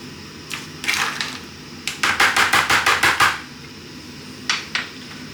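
Spicy rice with red pepper and frozen peas is mixed with a utensil, giving a quick run of about eight even, rhythmic scraping knocks in the middle, with a few scattered strokes before and after.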